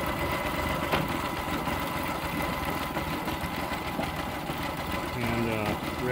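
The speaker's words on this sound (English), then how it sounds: "I think this motor, given some time, letting it run, will actually clear itself out better and run pretty good" Outboard boat motor idling steadily on a barge, with a dense continuous mechanical drone and a brief clunk of shifting into gear near the end, while people talk over it.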